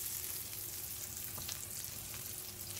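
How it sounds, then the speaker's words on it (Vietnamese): Beefsteak frying in a pan with onion and garlic, giving a steady, close, bright sizzle with soft crackles throughout and no voices. "Sau khi mà mình đã làm chiên xong cái miếng bistec và những cái gia vị như hành, lá, tỏi"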